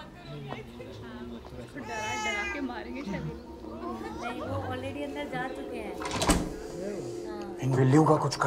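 Cats meow and yowl indoors, drawn-out wavering cries under and between people's talking, with a brief knock or bump near the end.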